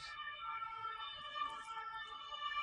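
A wailing emergency siren in the distance in Paris, near the Tour Saint-Jacques in the morning, its steady stacked tones holding for the whole clip, faint under light street ambience.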